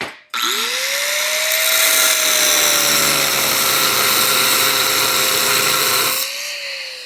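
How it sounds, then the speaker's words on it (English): An angle grinder's cutting disc trims back metal on a shock mount for a 1937 Lincoln Zephyr. A loud, sustained high whine spins up sharply, holds steady for about six seconds, then cuts off. "I'll just take the disc now, trim that back, and weld right through."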